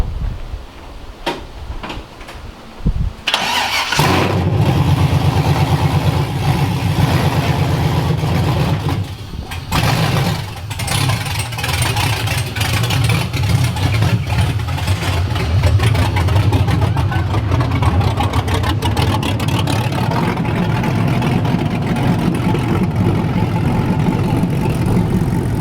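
A V8-swapped BMW E36 cranks and fires up after a quiet stretch, then settles into a loud, steady rumbling idle with occasional revs inside a garage, with no talking over it.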